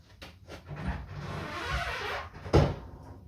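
The heavy driver door of a 1955 Cadillac Coupe Deville scrapes and shifts for a few seconds, ending in a dull thud as it settles.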